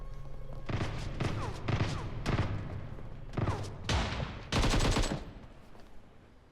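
Gunfire from an AWM sniper rifle in a mobile shooter video game, heard as repeated sharp bursts of shots spaced across the clip, loud and close, with a heavier salvo near the end.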